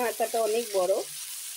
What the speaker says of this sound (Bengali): এখন ভাজা হোক মাছগুলো